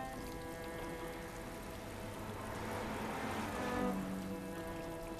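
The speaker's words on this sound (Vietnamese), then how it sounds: "Hôm nay mưa to thật." Heavy rain pours steadily in a city street, an even wash of hiss with a faint engine hum beneath that swells slightly toward the end, and no one speaking.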